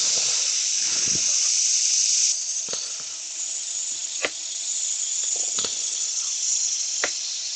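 Sandpaper pressed against a spinning silver birch bowl on a woodworking lathe makes a steady close hiss, which steps down partway through and is marked by a few sharp clicks and bumps.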